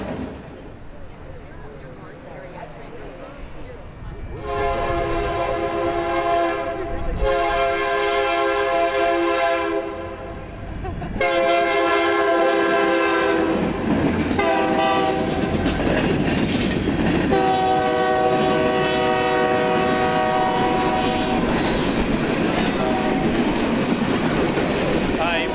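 Locomotive horn sounding at 400 feet during a wayside horn demonstration, loud chord blasts in several long bursts with short gaps, over a rumbling train.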